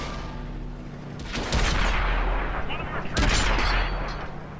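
A World of Tanks heavy tank, the American T32, fires its main gun twice with heavy booming blasts a couple of seconds apart over a steady engine rumble.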